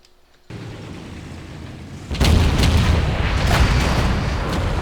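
A Type 61 tank cannon fires in a video game: a single loud boom breaks over a steady low background hum, then a heavy rumbling roar lingers after the shot.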